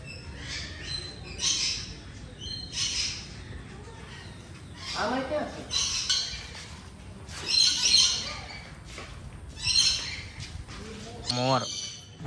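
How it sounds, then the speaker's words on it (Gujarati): Peacock calls ring out at Junagadh zoo (Sakkarbaug), loud repeated squawking cries spaced every second or two with other bird squawks, fairly close and clear against a quiet background. "અહીંયા મોર જ છે"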